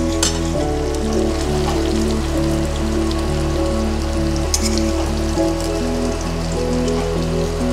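Raw jackfruit pieces frying in hot oil give a steady, dense sizzle that holds at an even loudness throughout, with a low hum underneath and no voices.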